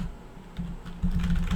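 Rapid keystrokes on a computer keyboard, a close, dense clatter of clicks that grows louder and busier toward the end.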